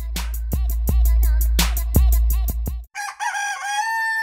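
Rooster crowing in a chicken commercial, repeated loud crows over a heavy low rumble and rhythmic beat, then a brief dip into a musical jingle with sustained tones.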